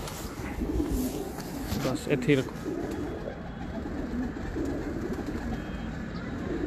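Breeder pigeons coo softly and repeatedly close by, their low murmuring calls running under a voice.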